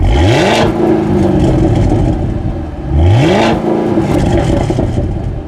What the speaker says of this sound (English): Take a listen to the exhaust in track mode.